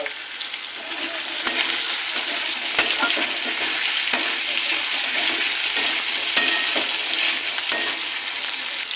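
Pre-fried prawns go into a pan of potatoes fried until red with grated ginger, and the mix is stirred. A steady, close sizzle of hot oil runs throughout, broken by occasional light scrapes and taps of the spatula.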